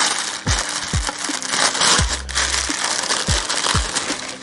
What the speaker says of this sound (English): Let me just unbox that for you.